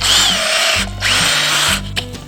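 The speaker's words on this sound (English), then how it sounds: "I've got a drill. This is a maple tree." A power drill bores into a maple tree trunk, its motor whining loud and close in two long bursts with a short pause between them, and no one talking.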